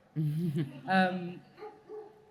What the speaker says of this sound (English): Hey, dogs.